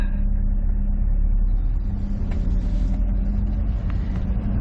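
A loaded 15-ton cargo truck pulls away and drives off, a steady low engine rumble and road noise holding close and loud throughout with no talking.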